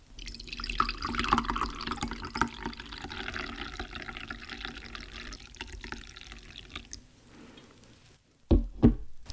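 Tea pours steadily from a pot into a cup in a quiet maid café roleplay setting, a close, continuous liquid trickle lasting several seconds before stopping, followed by a couple of soft knocks.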